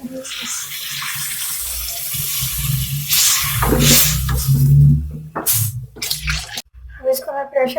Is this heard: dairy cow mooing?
no